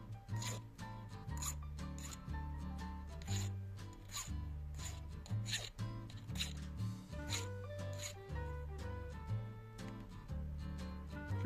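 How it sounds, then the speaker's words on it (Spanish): A file rasps along the sharp edge of a braided copper wire bracelet in quick, repeated strokes, heard over a steady rhythmic musical backing. "para quitarle el filo o quitar lo que vaya a tener, vaya a raspar"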